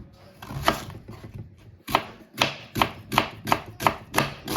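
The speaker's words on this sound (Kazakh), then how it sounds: "Енді осының үстіне пиязымды тура қаламын, сақтап." Knife chopping onion on a cutting board, for a potato casserole topping: a few scattered cuts, then a steady run of about eight crisp, close, evenly spaced chops with no talk.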